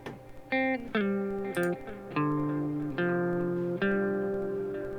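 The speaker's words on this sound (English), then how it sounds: "because the main guitar part sounds like this" A distorted electric guitar plays sustained notes and short melodic phrases, each attack ringing out with a bright, slightly processed tone, no voices.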